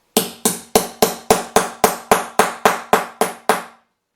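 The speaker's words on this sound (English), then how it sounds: "again a good sharp whack with a hammer." A hammer strikes a pointed setting tool eleven times in a steady, even rhythm, each sharp close whack fixing a metal eyelet through satin on a flag poi, with a slight ringing tail after every blow.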